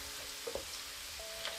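Chunks of taro root (arbi) frying in hot oil for a dry Indian masala sabzi, a soft, low sizzle with a couple of faint pops, quiet and without talk.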